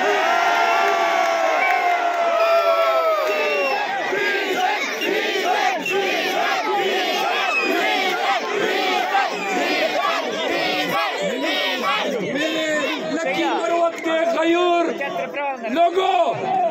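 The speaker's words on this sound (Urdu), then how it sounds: "یہ سارے مجمع ڈیزل ڈیزل کے نعرے نہ لگاتے." Large rally crowd chanting a two-word slogan in loud, sustained rhythmic shouts, voices overlapping with whoops and cheers throughout.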